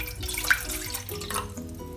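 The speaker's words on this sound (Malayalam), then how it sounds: "ഇതിലേക്ക് ഞാൻ 2 കപ്പ് വെള്ളമാണ് ചേർക്കുന്നത്" Two cups of water trickle and splash into a saucepan for making jelly, a steady light pouring with a brief brighter splash, close and fairly quiet, no voices.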